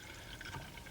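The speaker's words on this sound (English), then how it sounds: "you're going to start the siphon, and then it'll start flowing" Water runs through a siphon in a home science demonstration, a quiet, steady trickling flow with a faint liquid gurgle that carries evenly through the brief moment without any voices.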